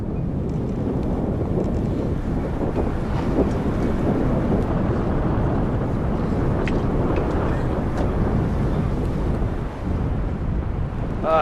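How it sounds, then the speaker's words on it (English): Strong wind roars and buffets continuously against the microphone in Mongolia, a loud, dense rush with no pauses for the whole stretch. "It's very windy."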